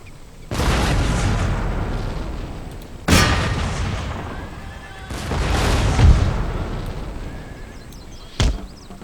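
Artillery cannons fire in a Napoleonic-era strategy battle, with several loud booming blasts spaced seconds apart, each trailing into a rumbling decay over constant battlefield ambience, with a horse whinnying in between.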